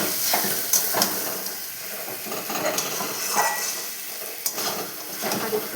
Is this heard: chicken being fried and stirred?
yes